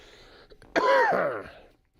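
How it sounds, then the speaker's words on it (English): A single harsh throat-clearing cough bursts out close up, rough and voiced, trailing off after about a second with no talk around it. "the cough is almost gone"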